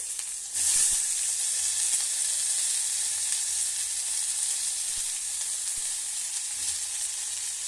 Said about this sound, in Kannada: ಫ್ರೈ ಆಗ್ತಿದೆ ಈರುಳ್ಳಿ